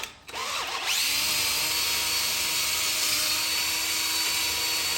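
A power drill spins up after a brief start and runs steadily at a high, whining pitch, close and loud, without pause.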